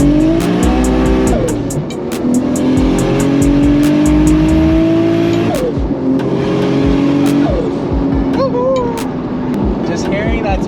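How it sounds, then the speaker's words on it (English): Toyota Supra with a built engine and single T67 turbo revving repeatedly, rising engine pulls with turbo spool and sharp flutter bursts between them, loud and close with tyre noise. "Just hearing that turbo spool up is just amazing."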